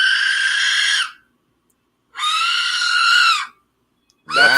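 A small 3D-printed whistle blown in long shrill wails that mimic a woman's scream, two sustained blasts about a second each with a gap, then a third bending cry starting, loud and close with nothing else heard.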